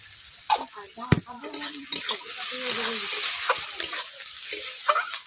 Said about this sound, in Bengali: বন্ধুরা দেখতেই পাচ্ছেন পেঁয়াজগুলোকে আমি হালকা করে ভেজে নিলাম